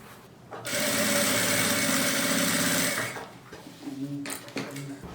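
Close-up sewing machine stitching fabric, one steady mechanical whir for about two and a half seconds and then a shorter, quieter burst as the fabric is adjusted.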